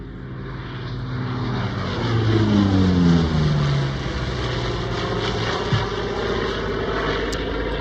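Hawker Sea Fury fitted with a Douglas Skyraider engine and propeller, a loud steady piston-engine drone with a propeller growl and shifting pitch as it passes at an air show, no talk.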